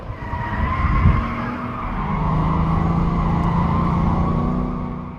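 A 2005 Ford GT sports car on Goodyear tires drives hard, its loud, steady engine roar building after a brief tire squeal and holding strong before easing off at the end.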